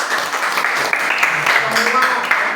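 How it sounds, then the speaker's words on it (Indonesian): A short burst of applause from a church group audience, clapping mixed with overlapping voices and chatter, fairly loud and close. "Oke, tepuk tangan ya."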